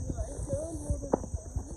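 Horses walking on a hillside path near Shimla, their hooves giving off a few uneven clip-clops amid a steady tonal background and nearby voices.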